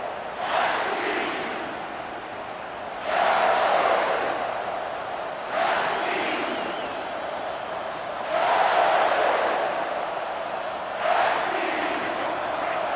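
A football stadium crowd roars in repeated swelling waves, loud and sustained, rising and falling in a rhythmic chant-like pattern through a game's second quarter.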